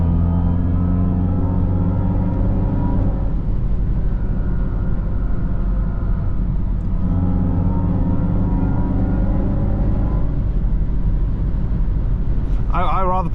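Braking in a Mercedes-AMG EQE53 electric car brings a synthetic drive tone that rises and falls in pitch, heard loud and steady inside the cabin over a constant low road rumble, with a short higher sound near the end.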